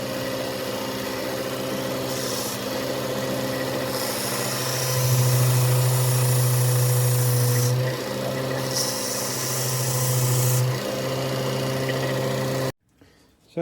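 A belt sander grinds the head of a bushcraft axe during restoration, a steady motor drone with harsh rasping that swells louder in two long stretches, then cuts off abruptly.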